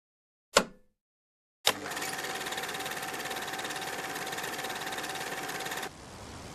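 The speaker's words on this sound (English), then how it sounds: "let's go in game and look at how a fixed pitch prop will work" In-game aircraft engine turning a fixed pitch propeller: a sharp click, then the engine starts and runs at a steady, even drone with a constant hum, dropping to a quieter, lower drone near the end.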